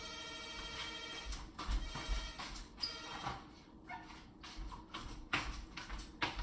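A phone rings indoors with a steady, repeating electronic tone that runs through the whole stretch, mixed with faint clattering and handling noise close by.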